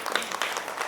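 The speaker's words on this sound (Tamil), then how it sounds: "கைத்தட்டல் கொடுங்க பார்க்கலாம்" Applause for a child at a gathering after a pilgrimage to Shirdi, a brief patter of clapping from a small group, moderately faint and steady under no talking.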